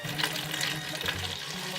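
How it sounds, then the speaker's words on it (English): Hot water pours from a cup into a container already holding bleach, a close, continuous splashing trickle with a few gurgles, alone without talk. "fill up your cup with hot water and pour that in as well."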